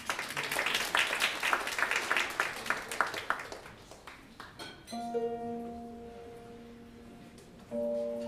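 An audience claps at a live concert, a dense spatter of applause lasting several seconds before it thins out and gives way to sustained, ringing instrumental tones.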